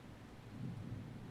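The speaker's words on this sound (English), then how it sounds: "And when the thunder hits" Thunder rumbles low and continuous during a thunderstorm with rain, a faint, distant roll with no voices over it.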